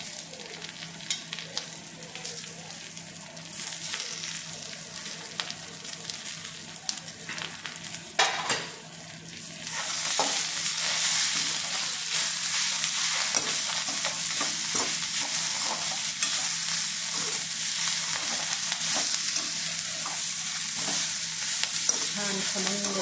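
Tomatoes dropped into hot oil in a pan for sev bhaji, a quieter sizzle with utensil clinks that swells into a loud, dense, continuous hiss and crackle after the tomatoes hit the pan, with stirring throughout.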